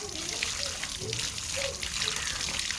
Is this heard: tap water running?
yes